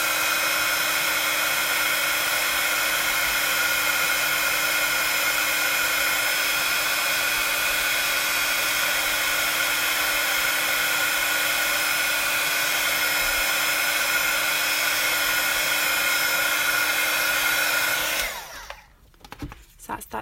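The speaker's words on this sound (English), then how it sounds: "I'm going to use my heat tool" Heat tool blowing steadily as it sets white embossing powder on paper inside a box, a loud, constant whirring hiss running close for most of the time before cutting off abruptly near the end.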